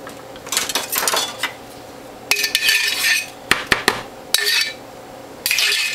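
A knife scrapes and clinks against the metal cutter blades of a juicer, clearing off leftover carrot pulp in short irregular bursts separated by brief pauses, close and fairly loud.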